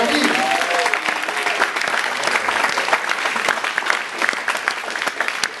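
Loud, dense applause from an audience at a jazz award ceremony in a club, steady clapping throughout with crowd noise and some voices mixed in.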